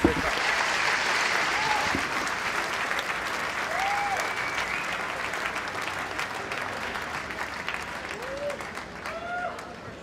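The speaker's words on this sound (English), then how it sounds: "Let's have a round of applause for these two incredible warriors." An audience applauds after a grappling match ends in a draw, a dense, steady wash of clapping sustained for the full stretch, with occasional whoops and a voice faintly underneath.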